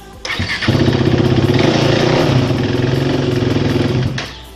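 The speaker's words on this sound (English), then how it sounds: "The engine's gonna start just normal." A motorcycle engine cranks briefly, fires, and runs at a loud, close, steady idle for several seconds before dropping away.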